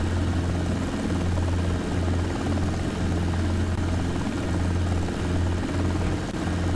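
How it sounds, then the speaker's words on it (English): Steady, loud helicopter rotor and engine drone from a desktop flight simulator as the aircraft settles from a hover onto the ground, with a constant low hum and no talking. "now to put the helicopter back down, gradually, slowly but gradually lower the collective"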